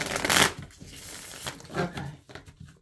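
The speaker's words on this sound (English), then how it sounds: "I want to go ahead and shuffle out." Oracle cards being shuffled by hand, a loud riffling burst at first, then softer repeated slides and flicks of the deck, close and with no voices.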